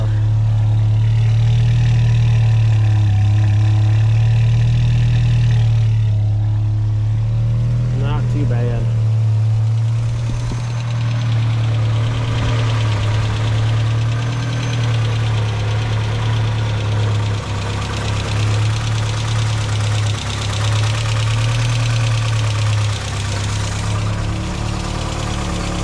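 A VW Jetta Mk2 engine idles steadily up close with a strong low hum and a faint ticking, while someone talks over it.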